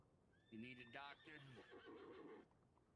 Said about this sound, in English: Sounds like we have a very upset animal out there.